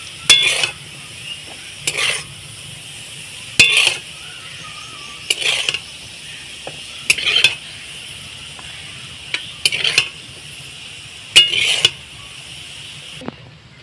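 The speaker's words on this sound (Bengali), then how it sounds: "আমার আলুগুলো ভালোভাবে ভাজা হয়ে গেছে। আমি এবার তুলে নেব।" Potatoes frying in hot mustard oil sizzle steadily while a utensil scrapes and stirs the pan in about seven short, evenly spaced bursts as the fried pieces are lifted out; close and fairly loud, with no talk.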